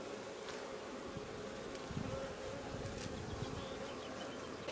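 Honeybees buzz steadily around an open hive during a summer honey harvest, a dense continuous hum close by with no one talking over it.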